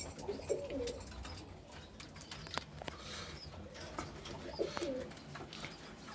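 Several domestic pigeons in a home coop coo softly in low, rolling bursts against a steady, faint background murmur, with scattered light rustles and taps.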